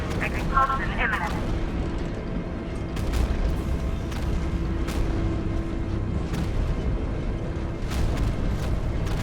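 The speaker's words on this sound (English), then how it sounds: "Warning, explosion imminent." Explosion in Batman: Arkham Knight at the ACE Chemicals plant: a few sharp, loud booms and blasts scattered over a rumbling industrial background, with a voice speaking near the start.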